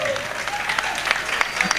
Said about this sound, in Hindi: आप ज़ोरदार तालियों से इस्तकबाल करते हैं।